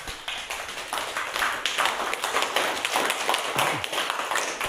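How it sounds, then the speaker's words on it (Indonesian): Applause from a small group of teachers in a school classroom, a steady patter of hand claps rising and sustaining for several seconds at moderate volume. "boleh kasih aplaus"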